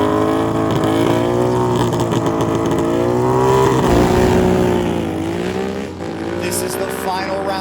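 A Harley Sportster drag racing motorcycle at the strip, launching at about 7,000 RPM, gives a loud, sustained engine roar with rising and falling harmonics over several seconds, while a voice talks over it.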